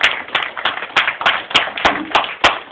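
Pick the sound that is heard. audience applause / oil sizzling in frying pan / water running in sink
audience applause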